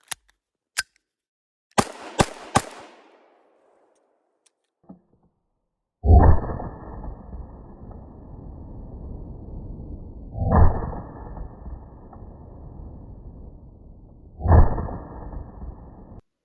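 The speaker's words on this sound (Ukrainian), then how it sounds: "Як ви вже бачили, відстріл пройшов нормально." A Blow TR-1402 9mm blank pistol fires Oskursan and STS blank cartridges: a few sharp isolated cracks at first, then three loud, widely spaced reports, each followed by a long ringing decay.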